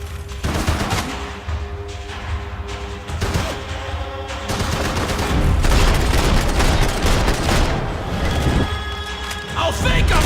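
Gunfire in the Max Payne 3 shooter game: dense bursts of shots and automatic fire crackle loudly and continuously, with booming impacts and crashes, while voices speak intermittently through the battle.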